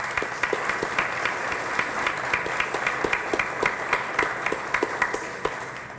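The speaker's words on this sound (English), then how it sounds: "Let's give them a big round of applause for that." Steady applause from an audience at the Union County Commissioners' reorganization meeting in Linden: dense, even clapping with a few sharper individual claps standing out, sustained throughout before fading slightly at the end.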